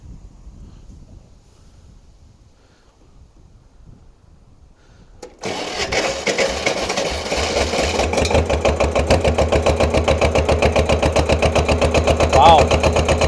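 A Kubota L-210 diesel tractor engine, glow plugs warmed, cranks briefly and then fires into a loud, steady chugging idle that continues close by after a near-quiet start.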